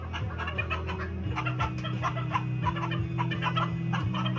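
A hen clucks repeatedly in short, close bursts over a steady low hum, a farmyard bird calling alone throughout.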